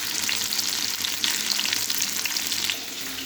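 Jackfruit pieces fry in hot oil in a pan with a loud, continuous hissing sizzle that stays dense and even, close up, with faint bubbling texture and no voices.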